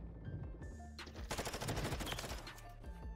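Gunfire in Call of Duty Modern Warfare 3, Loaded Resurgence mode, rattles in dense rapid automatic bursts with sharp single shots over game ambience, fairly loud and continuous for most of the stretch.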